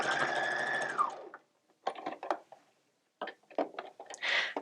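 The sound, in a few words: sewing machine stitching fabric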